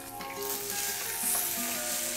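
Chopped onions and green chillies sizzle steadily in hot oil in a pan for okra sambar, a close, continuous frying hiss with faint stirring and no talk.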